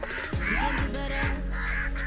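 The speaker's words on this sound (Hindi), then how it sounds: "कौवों को दाना डालते हुए आओ आओ की जगह काव काव कर रहे हैं" Crows being fed at a beach caw several times in close succession, loud and near, over a steady background hiss with no talking.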